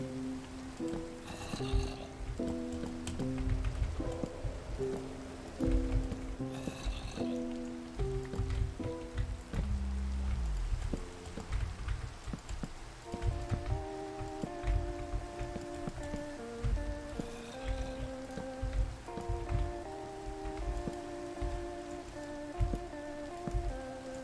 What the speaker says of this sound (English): the rain is making the frames even worse